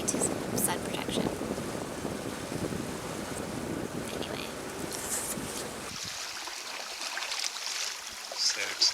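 A sailboat motors along under engine with its jib up on the shallow Bahama Banks in the Exumas, giving a steady broadband rumble of engine, wind and water that drops away sharply near the end.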